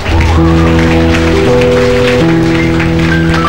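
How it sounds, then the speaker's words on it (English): Church audience applauding at a couples and singles meeting, steady dense clapping throughout, with sustained organ or keyboard chords playing over it. "Clap for those who lifted up their hands."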